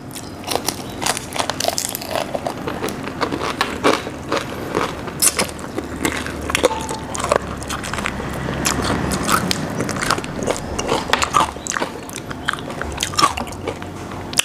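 Crispy fried pork tail crunched and chewed close up, with a steady run of sharp bites and crackly crushing of skin and small bones across the whole stretch, no talking.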